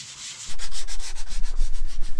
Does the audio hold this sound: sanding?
yes